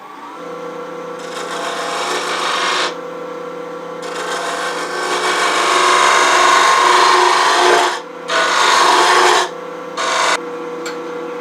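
A wood lathe turns the base of a wooden box held in a jam chuck while a tool cuts it. The cutting gives a loud, sustained rasping hiss that comes in several long passes with brief gaps, and nobody speaks.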